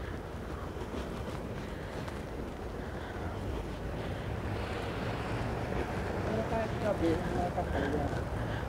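Strong wind buffets the microphone in a steady roaring rush, with a voice speaking faintly beneath the gusts.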